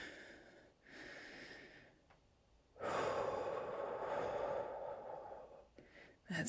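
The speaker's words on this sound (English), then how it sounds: "Breathing through." Heavy, audible breathing during a beginner's bodyweight workout, with long, loud exhales and sighing breaths close to the microphone, alternating with quieter inhales.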